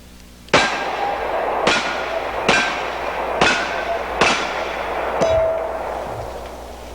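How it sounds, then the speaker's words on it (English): Six sharp revolver shots from a Smith & Wesson Model 27 .38 Special with 158-grain +P loads, each followed by a ringing clang off steel targets, spaced about a second apart at close range. "So let's shoot these steel targets over here with that 158 grain plus P loading"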